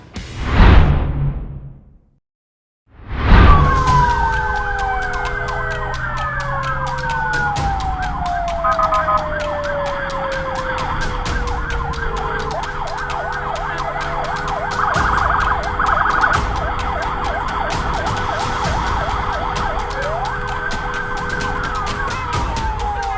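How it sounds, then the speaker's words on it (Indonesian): Emergency vehicle sirens on an Indonesian road, loud and continuous with wailing, sweeping tones that overlap and rise and fall over steady traffic noise, after a brief opening burst and a short gap. "sirine maupun rotator dari mobil pimpinan dan kelembagaan negara Republik Indonesia"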